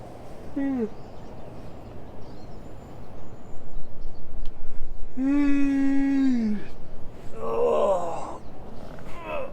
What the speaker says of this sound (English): And above all, see if you can yawn.